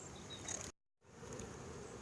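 Honey bees buzz at a hive fitted with a pollen trap, a faint, steady insect hum that cuts out briefly before resuming.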